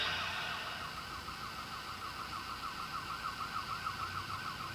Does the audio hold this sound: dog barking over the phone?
no